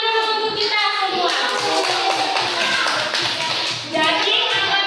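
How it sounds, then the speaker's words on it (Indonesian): A class of children in an Indonesian-language math lesson claps together in a rapid, fairly close burst that lasts a few seconds. A voice and a humming tone carry through the clapping. "Oke, tepuk tangan dulu untuk kita semua."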